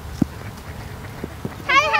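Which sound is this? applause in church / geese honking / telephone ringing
geese honking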